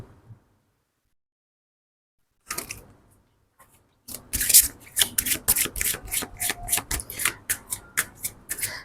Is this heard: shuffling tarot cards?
yes